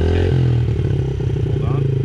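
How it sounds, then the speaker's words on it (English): A Yamaha TTR50 dirt bike engine revs up, its small motor buzzing and rising in pitch with some clatter, loud and close, while a voice talks over it. "now rev it all the way for me"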